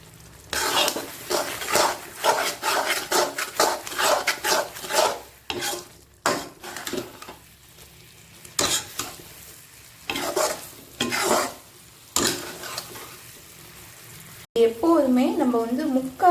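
Sweet banana and jaggery mixture boiling in a pot while being stirred, with a continual bubbling sizzle, scraping strokes of a spoon against the pan and intermittent talking over the cooking.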